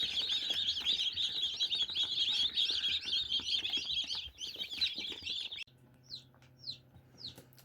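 Newly hatched chicks in an incubator give a dense stream of high, rapid peeping chirps that overlap steadily, then abruptly thin out to a few isolated peeps over a low hum.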